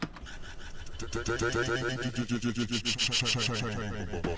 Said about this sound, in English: make that into a texture kind of granular vocal that is being stretched